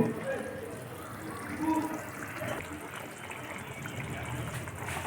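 A rohu fish curry with potatoes, vegetable stalks, green chilies and fried fish pieces bubbles at a steady boil, giving a continuous watery simmer with soft liquid gurgles throughout.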